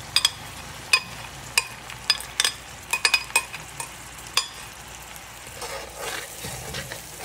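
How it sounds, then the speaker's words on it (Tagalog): A spoon stirs chili sauce through buttered shrimp, crab, octopus and sweetcorn in a pan, giving irregular sharp scrapes and clicks over a soft, steady sizzle. "tapos halu-haluin lang po natin yan"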